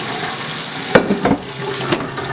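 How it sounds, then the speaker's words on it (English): Cold tap water runs over freshly strained pasta in a kitchen sink, a steady splashing flow broken by a few louder clattering bursts, with no talking. "the next thing we're going to do is strain our pasta"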